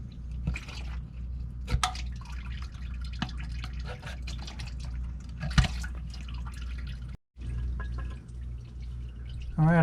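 Hot transmission fluid drains from a Ram NV5600 manual transmission, a soft continuous trickle with scattered drips, faint and close, with a few sharp knocks and a brief dropout.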